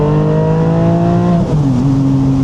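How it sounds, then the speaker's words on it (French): A hybrid Porsche Boxster accelerates hard in second gear, its engine note loud and close, climbing steadily in pitch before a brief dip as it shifts and then pulls on. "je vais faire une accélération à partir de la deuxième"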